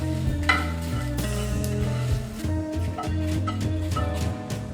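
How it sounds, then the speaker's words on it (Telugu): Dried red chillies fry in oil in a pan on low heat, a steady hissing sizzle with a few soft clatters, set against a prominent low melodic drone throughout. "ఎండుమిరపకాయలు కూడా వేసుకొని 2 నిమిషాలు సిమ్లో పెట్టి వేయించుకొని పక్కకు తీసుకోవాలి."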